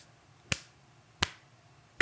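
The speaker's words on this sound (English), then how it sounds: "I'm doing a slow clap right now for Board Game Arena" A slow clap of three sharp, isolated hand claps, evenly spaced about two-thirds of a second apart, crisp and close against a quiet background.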